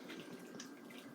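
Water pours from a bottle into stuffing mix in a kitchen, a soft continuous splashing trickle, quiet and close, with no talking.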